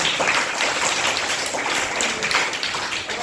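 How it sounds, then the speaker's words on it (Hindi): A classroom of students applauds during a maths lesson, a steady patter of many hands clapping together at close range for several seconds. "अब ताली बजाइए।"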